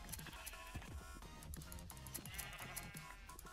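Sheep bleat in the video game Minecraft, several short bleats over background game music and keyboard clicking, faint in the mix.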